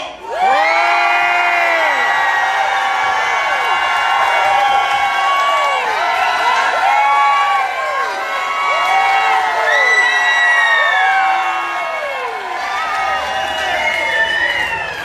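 A large crowd at an outdoor rally in Chicoutimi, Quebec shouts, whoops and whistles loudly and continuously, with overlapping rising and falling cries sustained throughout like a rock concert audience.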